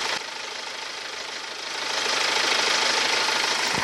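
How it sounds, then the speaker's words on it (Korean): A BMW X1 2.0 diesel idles with its engine bay open, giving a steady, close diesel clatter with a faint knocking rhythm that swells slightly halfway through. "총평에 앞서 엔진룸 열어봤는데 바로 엔진 소리 한번 들려드릴게요."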